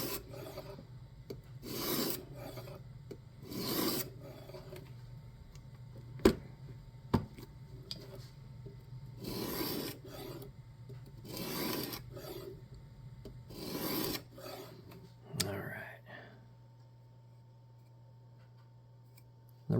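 A kitchen knife is drawn across a sharpening stone held in a jig system, giving repeated rasping strokes in an even rhythm with short pauses between them, close and moderately quiet, with no voices.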